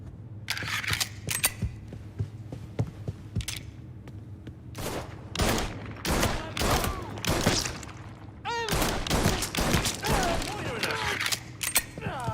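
A video game gunfight in Mafia III, with repeated sharp shots and bursts of fire in rhythmic clusters, heard under and between shouting voices and character dialogue.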